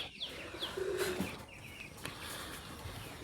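Pet pigeons kept in a home loft coo softly and faintly from a short distance, with a few brief chirps and light rustling against a quiet background.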